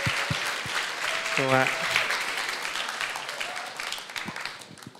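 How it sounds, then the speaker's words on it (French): A small audience at a gospel café applauds an exhibiting painter with a warm burst of clapping that gradually thins out. A voice briefly speaks over it near the middle. "Merci de l'applaudir."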